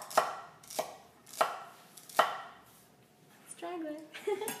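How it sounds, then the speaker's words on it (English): A Zwilling knife chops sharply on a cutting board four times in an uneven rhythm, close up. Then a short vocal sound follows. "Now you can hear really hear a chopping motion."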